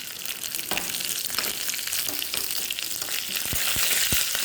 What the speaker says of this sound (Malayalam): 1/4 ടീസ്പൂൺ ഉലുവ പൊട്ടും, കറിവേപ്പില, 2 വലിയ ഉണക്കമുളക് ചേർത്തിട്ടുണ്ട്.